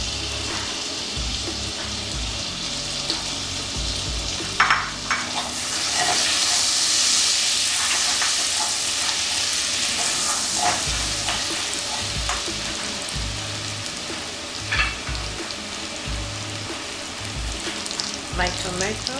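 Garlic sizzling in butter in a frying pan, a continuous crackling hiss with bursts of louder spitting and occasional utensil clinks, close and steady for the whole stretch.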